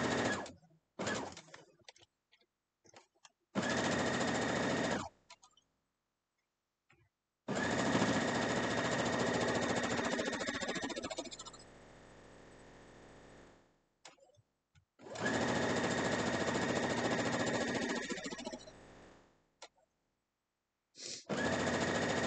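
Sewing machine stitching an Easter egg quilt block, running in three long steady bursts separated by short pauses and quiet handling clicks, close and fairly loud.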